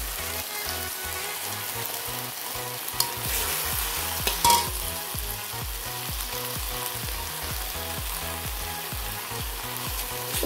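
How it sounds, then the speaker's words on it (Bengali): Spice paste with whole cumin frying in a pan for jackfruit kalia, a constant crackling sizzle with rhythmic stirring scrapes and a few louder clanks, no voices. "মশলাটা একটু ভাজা ভাজা করে নেব।"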